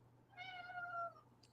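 A pet cat lets out one short, drawn-out meow, faint and somewhat distant in an otherwise quiet room with a steady low hum.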